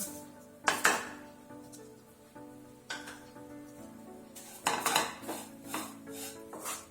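Spoon stirring sugar into a coconut burfi mixture in a pan, quiet scraping punctuated by a few loud metallic clanks against the pan, close and without talk.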